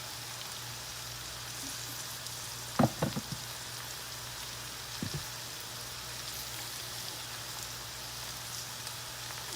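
Cornmeal-coated food frying in a pan, a soft steady sizzle with a couple of faint clinks and taps.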